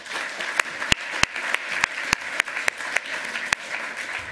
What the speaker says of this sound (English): Second round of applause for that.